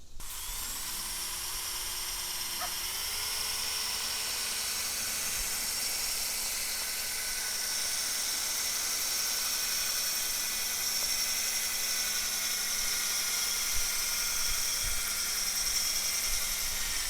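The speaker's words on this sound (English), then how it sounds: "now we're going to go ahead and keep sanding with the P3000" A steady, continuous whirring hum from wet sanding a headlight lens with a P3000 pad, holding an even pitch and level from start to finish with no talk.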